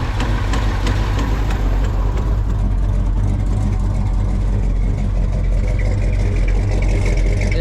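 An old stepside truck engine idling after starting, with a loud, steady low rumble and throbbing exhaust that runs continuously with no talk.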